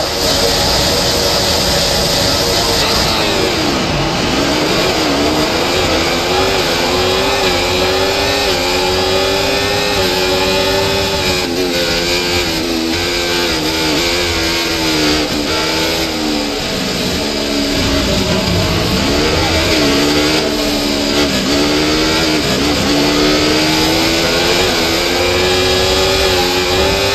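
Formula 1 race car engines roar together at the start of a race in the F1 24 video game, a loud, continuous high-pitched whine with rising and falling revs that fills the whole stretch without pause.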